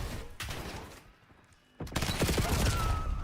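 Gunfire in the Call of Duty video game, dense bursts of shots starting early, pausing briefly, then returning louder and sustained through the rest.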